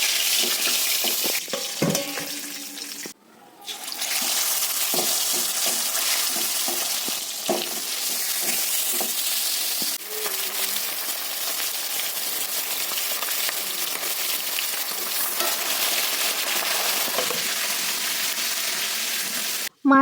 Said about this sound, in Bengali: তো একে একে সমস্ত মাছগুলো ভেজে নিই